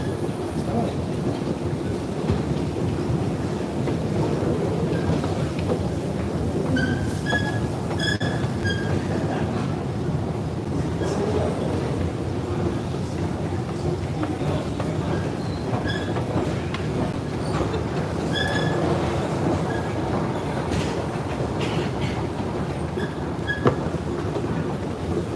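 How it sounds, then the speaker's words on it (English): Trains at London's Euston Station rumble continuously, with wheel clatter, scattered squeals and brief tonal chirps over a dense, steady station hum. "this is Euston Station."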